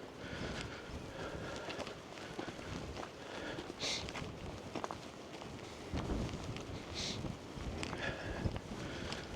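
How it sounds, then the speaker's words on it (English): Outdoor wind buffeting the microphone beside a creek at Penpol in Cornwall, a steady low rumble with gusty swells and a few light rustles or footsteps. "Quite a bit of a breeze here today."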